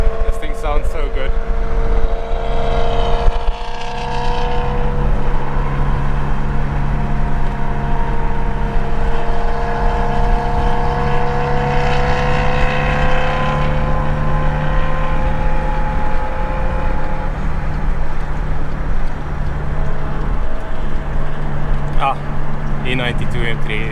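A car engine with a swapped-in 1.8T 20v four-cylinder runs steadily and close by, a loud continuous droning idle with shifting overtones and brief revving, while a voice talks underneath.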